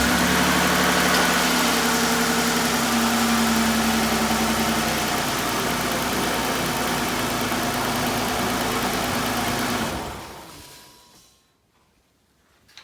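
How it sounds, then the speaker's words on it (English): A 2006-2012 Toyota RAV4 engine runs at a steady, loud idle for about ten seconds after an oil change, then shuts off and fades into near silence. "then we're going to start the engine and check it"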